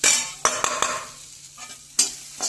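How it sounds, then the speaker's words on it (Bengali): Green chili, ginger, garlic and onion fry in butter in a pan, crackling and sizzling up close while a utensil stirs and scrapes in several quick, distinct strokes, with no voices. "এবার কাঁচা লঙ্কা, আদা কুচি, রসুন আর পেঁয়াজ কুচি এটা একটু ফ্রাই করে নেব।"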